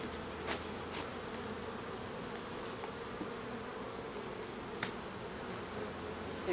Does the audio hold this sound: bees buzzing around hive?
yes